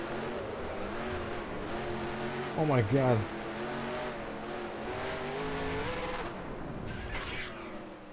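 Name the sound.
race car engines in NASCAR Racing 2003 video game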